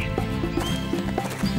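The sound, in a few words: horse walking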